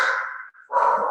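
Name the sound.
dog barking at people at the door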